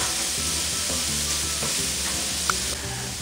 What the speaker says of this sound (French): la même cocotte, je vais faire revenir mes échalotes